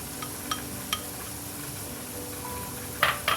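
Minced meat with ginger and garlic frying in a pan, a steady sizzle under a few light metallic clinks of utensil against pan, with a louder scrape near the end.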